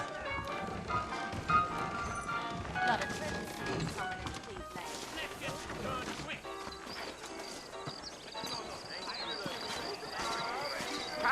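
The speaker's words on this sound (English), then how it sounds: "I got the horses saddled up and ready out front." Saddled horses clip-clop along in the Western video game Red Dead Redemption, a steady hoof rhythm mixed under a dense game soundtrack and ambient noise, with voices talking.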